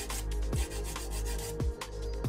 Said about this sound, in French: avec la lime 120, je fais d'abord les côtés.